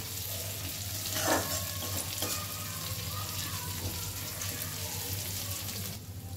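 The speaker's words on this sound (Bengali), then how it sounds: "গ্যাসের ফ্লেমটাকে মিডিয়ামে রেখে কিশমিশটা দিয়েও একটু নাড়াচাড়া করে নেব" Raisins stirred in a pan over a medium gas flame, a steady sizzle with scraping stir strokes and a low constant hum underneath, close and moderately loud, with no talking.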